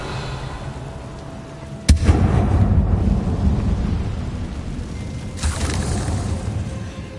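A Confringo blasting spell explodes in the video game Hogwarts Legacy: one sharp, loud boom, then a long rumbling roar and a second, softer swell of blast noise near the end.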